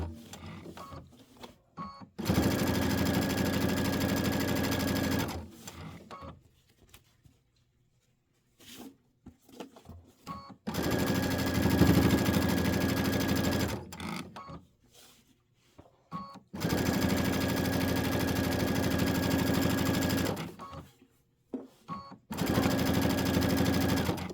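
A sewing machine stitches the inner borders of a quilt top in three long, loud bursts of rapid whirring, separated by pauses with small handling clicks and brief quiet.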